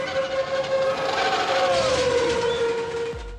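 A train in the animated Disney film Oliver and Company bears down with a loud, sustained whistle that bends downward in pitch over rumbling wheels, ending in a sudden low thud of impact, with no voices.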